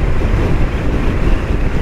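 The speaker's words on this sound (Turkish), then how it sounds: "Gece bir de rüzgar da var." Loud, constant wind roar buffeting the microphone while riding a Honda PCX 125 scooter at night, a heavy low rumble with gusty fluctuations and no voices.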